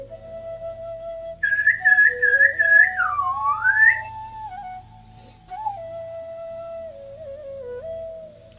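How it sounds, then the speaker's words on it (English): A bird whistles at dawn in a melodic, rising-and-falling phrase, fairly close and clear, followed by a few softer, sustained whistled notes over a quiet low hum. "I secretly recorded a bird whistle"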